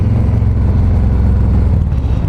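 Motorcycles ridden nearby at a motorcycle mechanics school, a loud, steady low engine drone that rumbles throughout without a break and has no talk over it.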